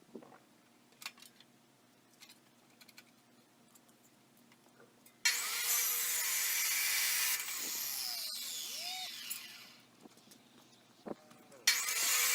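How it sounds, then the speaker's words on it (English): Power saw cutting a 3-inch metal flat bar to length for a DIY boomless ATV sprayer, a loud sustained grinding whine lasting a couple of seconds after quiet workshop clatter, then a second short cut near the end. "The first step was cutting this 3-inch flat bar to the length of the depth of the tank"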